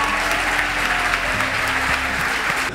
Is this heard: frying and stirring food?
no